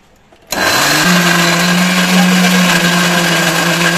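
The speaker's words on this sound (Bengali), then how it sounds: "এবারে এটাকে মিক্সিতে ভালো করে পেস্ট করে নিতে হবে" A mixer grinder whirs loudly and steadily after switching on, a continuous high-pitched motor drone with its pitch settling as it blends pointed gourd into a paste.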